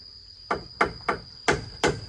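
Five sharp hammer blows strike wooden boards in an uneven rhythm, each a crisp close impact with a short ring, while a steady high insect-like whine runs underneath.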